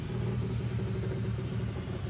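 A junior dragster engine at Santa Pod Raceway droning steadily from below, a low continuous rumbling hum at moderate distance with no talk over it.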